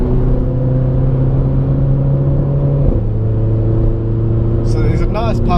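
Renault Clio RS 200 EDC with ITG induction and centre resonator delete driven hard, a loud steady engine drone from inside the cabin with a brief shift dip midway and a sharp rising whine near the end.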